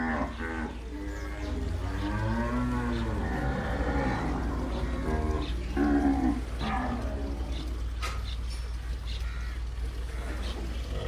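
A young Brahman heifer calf moos several times in long, drawn-out, wavering calls, close and clear, with faint farmyard background noise.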